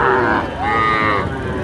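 Agar cows at the Ambari cattle market in Dinajpur give a close, drawn-out moo that rises and holds, with market bustle beneath it.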